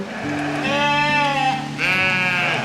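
A sheep bleats twice in quick succession, close and clear, each a wavering nasal cry, against a faint farm background.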